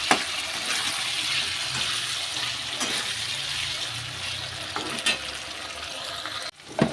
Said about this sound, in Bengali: এবার এই বাটির মধ্যে একটু গরম জল দেব